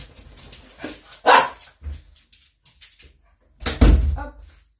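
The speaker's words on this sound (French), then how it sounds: "Chez moi, c'est des chiens." Dogs bark indoors at home, giving two loud, sharp barks a few seconds apart close by, with brief talk in between.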